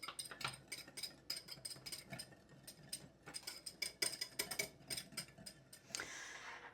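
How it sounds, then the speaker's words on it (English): Garlic powder, paprika and onion powder being whisked together in a bowl, a quick run of light, irregular ticking scrapes close by, with no voices. "Just gonna whisk those together till they're well combined."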